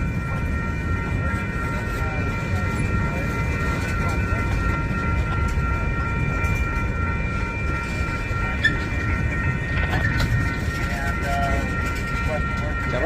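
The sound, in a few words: freight train passing in St Paul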